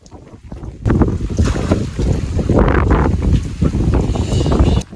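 Strong wind buffets the microphone in a continuous roaring rush in an open field during rain, gusting louder in the middle before cutting off abruptly at the end.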